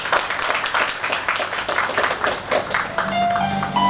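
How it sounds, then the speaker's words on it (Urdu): An audience at an Urdu poetry event in Dubai gives a burst of scattered clapping that swells into steady applause. It sounds fairly close and loud and is heard with no speech over it. "ایک زوردار تالی بجا دیجیے گا"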